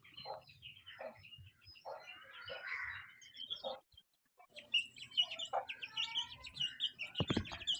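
Faint, high-pitched cheeping and chirping from small chicks, in scattered bursts, with occasional clucks and some rustling close by.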